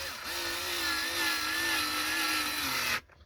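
A drill driving screws into a Squier Jazz Bass pickguard whirs steadily for about three seconds with a slight rising whine, then cuts off abruptly.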